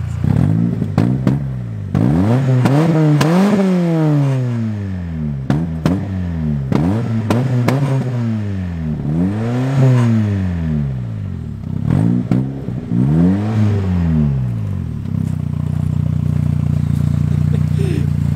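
A Porsche 944 engine with its exhaust cut off revs hard over and over, each rise and fall loud and raspy, with short pauses between pulls before settling into a rough idle.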